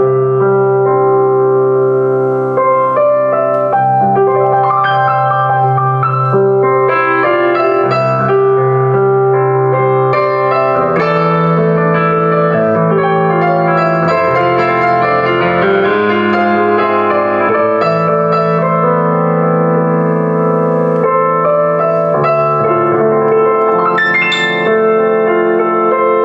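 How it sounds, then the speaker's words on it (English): A Bösendorfer Imperial concert grand piano voice on a Yamaha NU1X hybrid piano plays a rich, sustained passage of full chords and melody, loud and close, with no talking. "So you get a Borsendorfer Imperial, which is another elite concert grand piano, and it's got a different sound to the Yamaha,"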